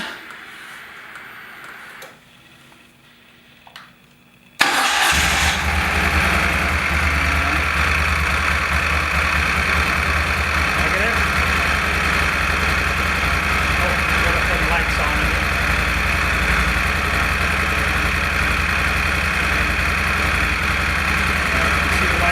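A 2016 Moto Guzzi Stelvio motorcycle engine starts after a few seconds of quiet and settles into a loud, steady idle with a ticking mechanical beat that continues to the end.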